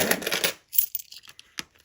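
Coins dropped into a Hermès wallet: a rustle of handling followed by a few small, close metallic clinks and taps as the coins settle into the leather pocket.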